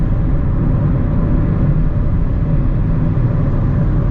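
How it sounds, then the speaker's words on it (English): Inside a Mazda Miata on the move, a steady low roar of tire and road noise with a faint wind hiss continues unbroken and fairly loud. "the wind noise is pretty minimal. It's mostly tire noise"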